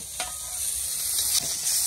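Fish frying lightly in a pan for an old-style parshe mustard curry, a steady close sizzle with a couple of brief spatula scrapes and crackles, no voices.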